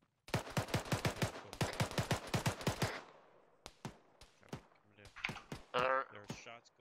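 Arma 3 automatic rifle gunfire in two long rapid bursts of sharp, loud shots, followed by scattered single shots with a voice speaking over the later part.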